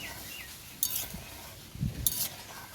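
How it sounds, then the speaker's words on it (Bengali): Carrot and milk being stirred in a wok for carrot sherbet: quiet scraping with two brief metallic clinks of the spoon against the pan and soft low knocks between them, no talking. "এইভাবে আমি ঘন ঘন নাড়তে থাকবো।"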